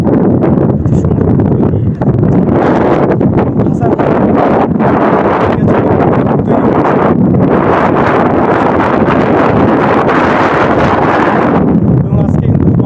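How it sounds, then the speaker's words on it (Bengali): Strong wind gusts across the microphone on an outdoor walk along a high wall beside a road, a loud continuous low roar and buffeting that fills the whole stretch, with no clear talk above it. "বাতাস বইছে"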